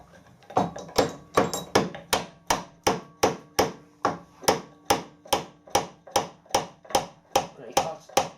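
Hammer knocking out a bearing on a mill, a steady series of sharp metallic blows, about two per second, moderately close and alone without talk.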